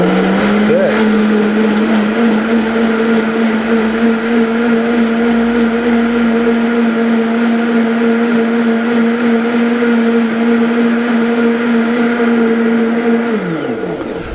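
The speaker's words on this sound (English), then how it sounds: "I'm at a medium speed on our Just Buy blender from Kitchen Gadgets 101, and that's it." A blender motor running at medium speed whirs at a steady medium pitch for the whole stretch, loud and close, then winds down at the very end.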